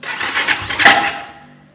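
A Kayo 250 T4 dirt bike's engine cranks and catches, a brief burst of mechanical chatter that swells then fades to a low idle, close by.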